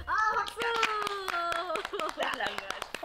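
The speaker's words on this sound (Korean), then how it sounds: "박수" Audience clapping along at a live regional TV broadcast stage performance, sharp rhythmic hand claps over music with singing or voices layered in, energetic and fairly close.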